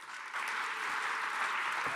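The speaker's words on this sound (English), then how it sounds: "Please give yourself a huge round of applause" A room full of people applauding at an arts awards ceremony, clapping swelling quickly and holding steady at a moderate distance.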